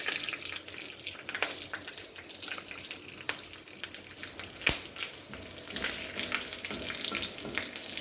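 Whole cumin seeds fry in hot oil alongside chopped ginger and a bay leaf, a quiet, continuous crackling sizzle with scattered small pops and one sharper tick.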